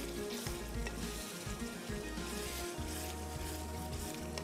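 Bottle gourd and boiled chickpeas frying in a pan, a close, steady sizzle with stirring scrapes throughout and no voices.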